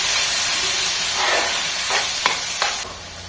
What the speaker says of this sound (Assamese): আৰু এইখিনি অকণমান সময় ভাজি ল'ম।